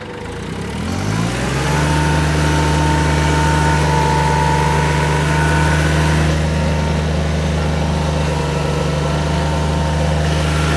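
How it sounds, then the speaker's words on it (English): Small tractor engine running steadily while plowing snow with a scrape blade, rising from a start to a constant loud mid-pitched drone that holds nearby throughout, with no talking. "I bet my little tractor does pretty good with this new blade."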